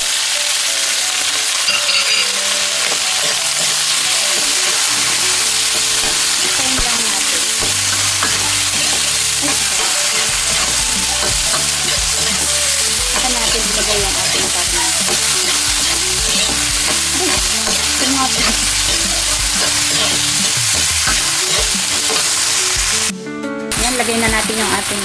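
Tomatoes fry in a pan for a mung bean dish, a loud close sizzle with steady scraping and stirring throughout and a brief sharp clatter near the end.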